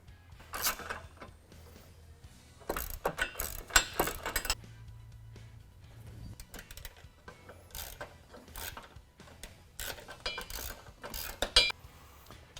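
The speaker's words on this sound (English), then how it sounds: "Now we'll install the AEV supplied nuts." Nuts supplied by AEV are tightened onto a rear bumper corner of a Jeep Wrangler JL, likely with a ratchet, giving close bursts of rapid clicking and metallic clinks separated by short pauses.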